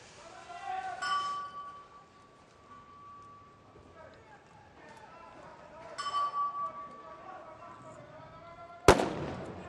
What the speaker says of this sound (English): First shots are away from the snipers on the shorter of their two challenges